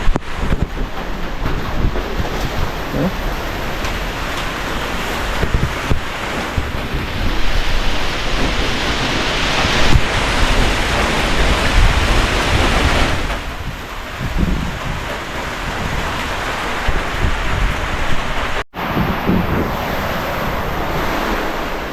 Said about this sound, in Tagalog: Grabe yung hangin na sumasalubong